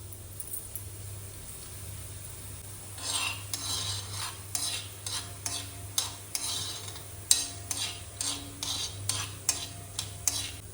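Spices, urad dal and coriander seeds dry-roast in a pan for bisi bele bath, a spoon scraping and stirring in quick, repeated strokes after a quiet start, close, over a steady low hum.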